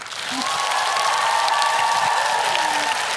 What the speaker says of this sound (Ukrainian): Ти тільки послухай, як тобі аплодують.